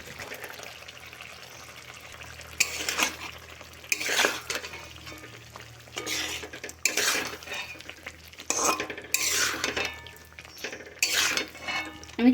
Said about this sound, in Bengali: বিরিয়ানি মশলাটা 1 চামচ দিয়ে দেব আর একটু নাড়াচাড়া করে নেব